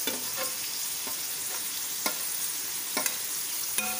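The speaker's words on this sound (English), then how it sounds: "now I'll be dropping all the khaman pieces inside." Khaman dhokla pieces drop into a hot tempering and get stirred, a dense continuous sizzle with a few soft thuds and scrapes of the spoon against the pan, close and steady without speech.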